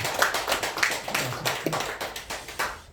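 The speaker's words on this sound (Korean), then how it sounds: "박수로 환영합시다." A church congregation claps to welcome back a returning deacon: a sustained round of scattered applause with irregular, overlapping hand claps at moderate distance and no speech over it.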